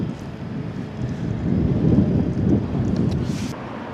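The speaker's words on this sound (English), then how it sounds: "Breeze picking up a bit." Outdoor wind buffets a microphone in a steady low rumbling roar that swells in the middle and eases slightly toward the end, loud and close with no voices.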